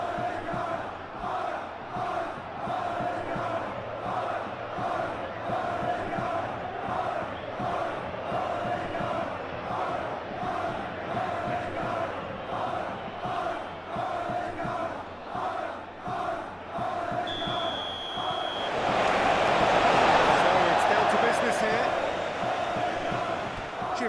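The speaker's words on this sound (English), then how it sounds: "A capacity crowd here." A capacity stadium crowd in a simulated football match between Atletico Madrid and Barcelona keeps up a rhythmic chanting roar, swelling into a louder cheering surge near the end.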